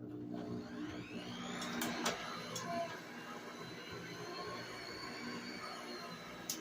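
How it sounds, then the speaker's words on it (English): An electric hand mixer runs steadily, beating brown sugar into a sweet potato pudding mixture, with a continuous whirring motor tone that stays loud and close the whole time. "I'm going to turn the mixer on and get that mixed up in there real good"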